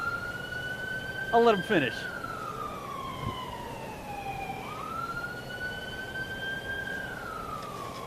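A warning siren wails at the Boca Chica launch site, a loud rising and falling tone sweeping slowly up and down, while a person briefly speaks over it.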